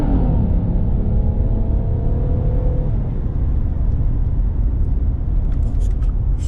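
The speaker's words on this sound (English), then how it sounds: "Das ist die Autobahn." Steady, loud road rumble of cars passing on the German Autobahn, a continuous broadband roar with a brief rising engine note early on and no voices.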